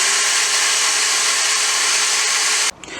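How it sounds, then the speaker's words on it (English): A drill spins a motorcycle cap head bolt against wet 120-grit wet-and-dry sandpaper for a Kawasaki Z650/1170 project, a loud steady hissing grind that stops abruptly near the end. "put the cap head in my drill, get some 120 wet and dry sandpaper, get it wet, and just push against it"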